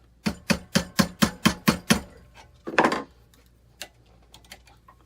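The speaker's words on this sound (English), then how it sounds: "hammer that down a little bit" A metal fork being hammered into a twisted ring: eight sharp, evenly spaced strikes in quick succession, then a brief scraping burst and a few lighter scattered taps, close up with no talk.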